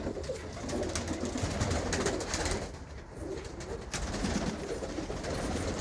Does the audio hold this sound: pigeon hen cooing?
yes